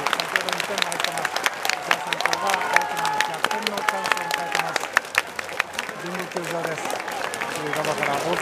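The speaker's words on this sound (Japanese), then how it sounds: "拍手が起きています" Steady, dense applause from a baseball stadium crowd at the 2022 West Tokyo summer high school final between Nichidai Sanko and Tokai Sugao, sustained throughout with scattered sharper claps and voices talking over it.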